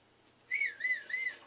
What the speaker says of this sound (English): Why are you whistling? Why are you doing that?